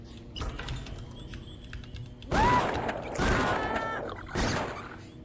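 Stone moon door mechanism grinding open in a first-person shooter, a series of creaking, ratcheting mechanical bursts with a few loud surges, heard alone without talk.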